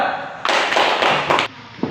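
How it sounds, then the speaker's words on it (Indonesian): Classroom of students clapping for group 4, a brief burst of close, dense applause lasting just over a second. "Tepuk tangan untuk kelompok 4"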